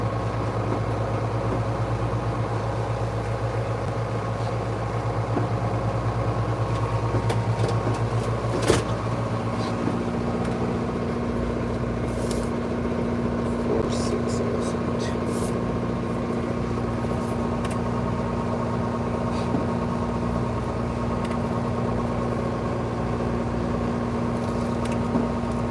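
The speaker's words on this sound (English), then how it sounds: "So yeah, we are on the boat." A boat's low engine drones steadily throughout, a constant hum with faint clicks and rattles over it, no voices.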